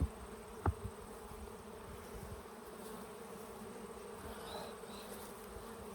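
Honey bees buzzing around a beehive, a constant soft drone of many wings close by, with a few brief louder passes and knocks near the start.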